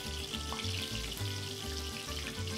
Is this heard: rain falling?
no